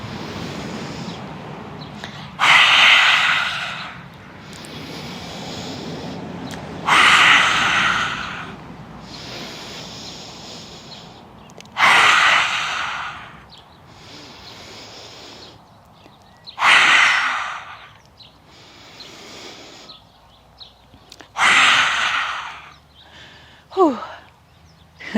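Forceful yoga breathing during a slow backbend flow with pranayama, loud rushing inhales and exhales repeating roughly every five seconds, close and breathy, with quieter pauses between breaths.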